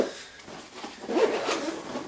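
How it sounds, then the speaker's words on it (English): A Nintendo Switch Elite Player backpack is zipped shut after a MacBook is packed inside, one close zipper pull running for about a second. "zip it up, and you're good to go"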